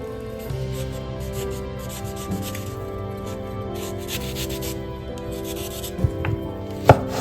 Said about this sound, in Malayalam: നമുക്ക് മാങ്ങനെ പൂളാട്ടോ.